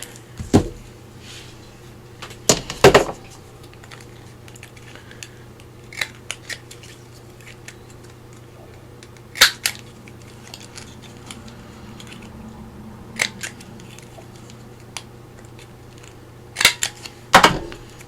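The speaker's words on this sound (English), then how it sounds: "I think I want to trim it down. It's big. And I'll round those corners." Scissors trimming a paper journal tag and rounding its corners: a series of sharp, close snips and clicks, some in quick pairs, separated by quiet gaps over a faint steady background hum.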